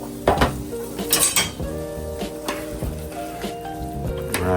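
A spoon turns through a pot of boiling potatoes for dal puri, with metallic clinks and scrapes against the pot over a soft bubbling simmer, close and without speech.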